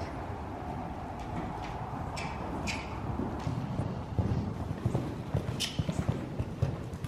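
Hooves of a cantering horse in an arena thud in a rhythmic clip-clop, growing more distinct and closer toward the end, with faint background sounds.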